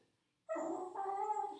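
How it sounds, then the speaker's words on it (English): A dog whimpers and yips close by in one short, high, whiny burst about a second long, with no talk over it. "That's the dog."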